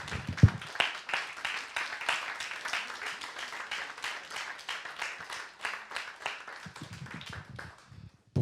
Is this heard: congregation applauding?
yes